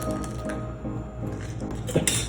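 Raisins and dried fruit tumble into a container with soft rustling clatters and light clinks, a continuous close pour with small bumps.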